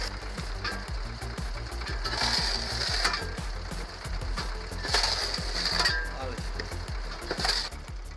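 An automatic firewood processing machine runs with a steady mechanical churn, regular knocking cycles and clanking parts, and louder crunching surges as logs are split. A voice talks over it.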